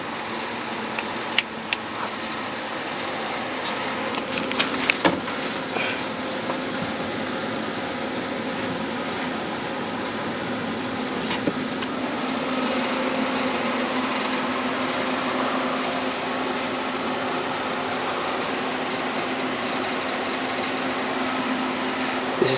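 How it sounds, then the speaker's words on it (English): Air conditioning unit running on cooling in a home attic with torn ducting, a steady, moderately loud mechanical hum and whir that drones on without pause, with a few faint clicks and knocks early on. "This is the AC unit. It's currently on cooling."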